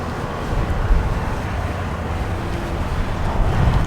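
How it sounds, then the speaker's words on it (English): Strong wind blows across an outdoor race track during a Porsche track day on a cold day, a steady, loud rumbling roar buffeting the microphone with no talk. "It's windy. It's really windy."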